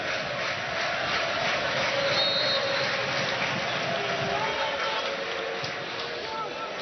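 A football stadium crowd cheers and roars steadily throughout, a broad sustained wash of noise with a commentator's voice running over it.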